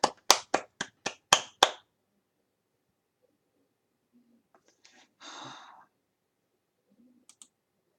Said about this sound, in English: Here's your clap.